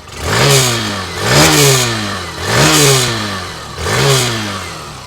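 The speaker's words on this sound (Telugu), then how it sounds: "ఇప్పుడైతే ఈ ఎగ్జాస్ట్ నోట్ ఒకసారి విందాం" A Hero Glamour OG 125cc motorcycle being revved four times in a steady rhythm, each loud throttle blip rising and falling back toward idle, close by with no talk.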